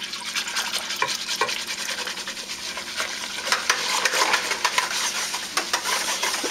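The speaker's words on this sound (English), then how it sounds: "But we take our trusty whisk that has been sanitized and get it in there." A sanitized whisk stirs mead must in a bucket, giving a steady wet churning with brief clicks and splashes throughout, fairly close and moderately loud, with no talking.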